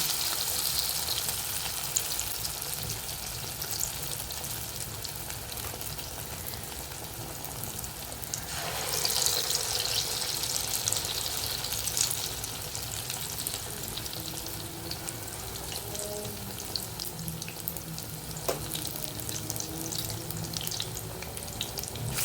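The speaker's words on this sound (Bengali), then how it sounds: "এবার তেলের মধ্যে এরকম ছেড়ে দিতে হবে।" Bitter gourd leaf fritters frying in hot oil give a steady, close hiss of bubbling oil. A brief louder surge comes partway through as more batter goes in, with no voices.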